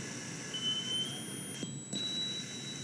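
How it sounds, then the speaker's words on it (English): A thin, high-pitched 3 kHz sonar tone from a boat sounds faintly in short steady segments over low background noise. "playing for you the sound of the 3 kilohertz sonar signal that we believe was coming from the boat"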